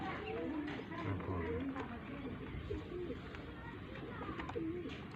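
Pigeons coo softly in low repeated phrases amid a busy, noisy background with people talking nearby.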